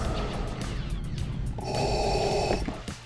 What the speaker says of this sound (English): If you listen to when Buzz first appears in the Toy Story films, he's breathing exactly like Darth Vader.